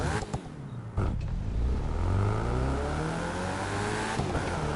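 A car's engine revs and accelerates hard in The Crew 2 racing game, pitch climbing steadily after a brief clunk at the start, loud and close with a sustained roar and faint tire noise.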